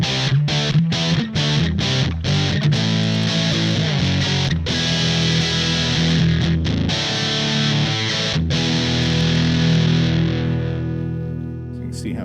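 An electric guitar with humbucker pickups runs through a Code 50 amp at high gain, giving a thick, saturated distorted tone as chords ring and sustain continuously, with a few brief breaks between strums.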